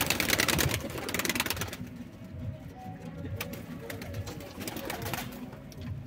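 Vanli Sino pigeons cooing in a loft, low soft coos repeating under a steady rustle of wings and movement, close by, with faint voices in the background.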